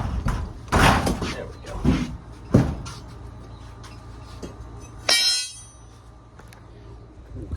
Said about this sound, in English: the only way I can get it back out is to put a crowbar to it